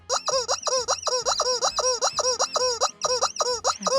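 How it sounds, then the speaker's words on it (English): A big red rubber chicken squeaks over and over in a steady rhythm, roughly a dozen loud, close, wheezing squeals with short gaps between them and no talking. "you get the big red rubber chicken"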